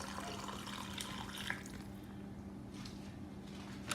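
Brine poured over a spatchcock chicken for a tequila lime recipe, a steady wet splash and trickle with small squishy drips, close and fairly quiet, no talking.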